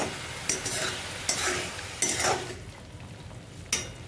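Masala pasta cooking in oil, with several distinct scraping stirs of a spoon in the pan over a moderate sizzle, coming at irregular intervals before the sound quietens toward the end, no speech.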